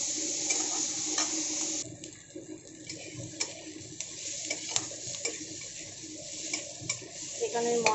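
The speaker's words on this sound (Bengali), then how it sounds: "সবার আগে এটাকে একটু ভালো করে ভেজে নিই।" Magur catfish fries in a pan with a continuous hiss of hot oil, scattered spattering ticks and occasional scrapes and clinks of stirring close by.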